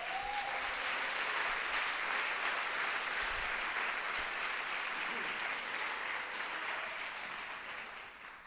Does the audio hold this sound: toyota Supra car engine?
no